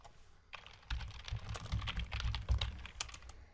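Rapid keystrokes on a computer keyboard spell out a short word, a quick cluster of close, crisp clicks with no talking.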